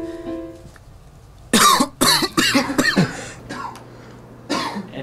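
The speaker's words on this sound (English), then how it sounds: "and he starts coughing." Someone lets out a run of harsh, close coughs, several sharp bursts in quick succession followed by a couple of fainter ones, with a steady low hum underneath.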